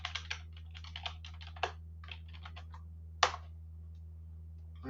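Typing on a computer keyboard, quick irregular bursts of close, quiet key clicks with a few louder taps, over a steady low electrical hum.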